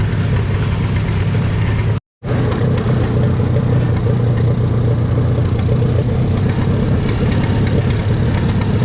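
Vintage Allis-Chalmers-style D14 tractor engine labouring under load at a tractor pull, a loud, steady low roar that runs continuously apart from one brief dropout, with no talk over it.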